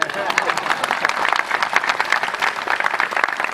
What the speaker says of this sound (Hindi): ये ताली दे दीजिए